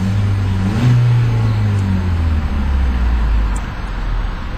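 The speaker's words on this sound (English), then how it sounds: "Beautiful sounding engine." A 2012 Ford Focus SE Sport five-door engine revs steadily while parked, rising in pitch near the 3,500 RPM limiter then easing back down, a loud, close, continuous drone with no talking.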